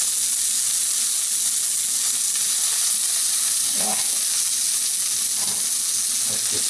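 Salmon fillet sizzles steadily on a hot griddle, a dense continuous frying hiss with a few faint clinks of a utensil underneath.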